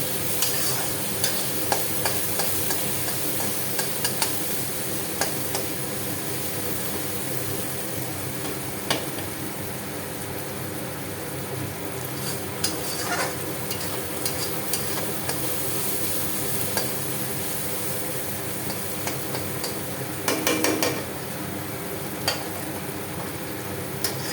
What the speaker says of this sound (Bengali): মশলাটা ফ্রাই হয়ে যাচ্ছে, দেখো।